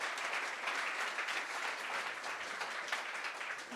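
A poetry recitation competition audience claps steadily, a dense even patter of applause that holds at moderate level throughout, with no voices heard.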